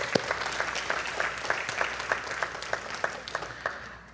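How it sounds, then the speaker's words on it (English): A church congregation claps along in a steady rhythm during a sermon, each hand clap sharp and distinct against a roomy background, the claps evenly spaced and fading toward the end. "Give the Lord a hand clap,"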